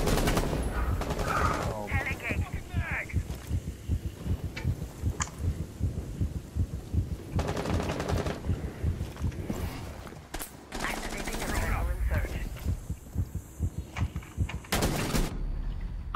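Rapid gunfire in Rainbow Six Siege, bursts of automatic shots in dense repeated volleys with short pauses between them, loud and close, with players talking over parts of it.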